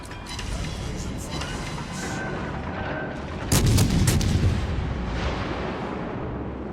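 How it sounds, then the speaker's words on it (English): Naval guns fire at a Bismarck battleship in the naval combat game World of Warships Legends, heard as a continuous roar of gunfire and explosions with a louder, heavier burst of booms partway through and no talk. "Still taking some shots at the Bismarck."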